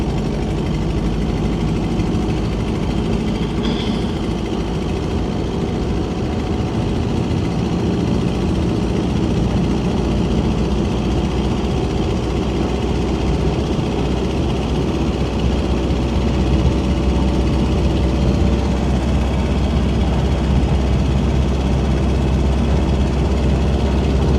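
A 1928 Ford Model A Sport Coupe engine drones steadily at freeway speed, a dense low rumble mixed with road and wind noise, loud and unbroken throughout with no talk.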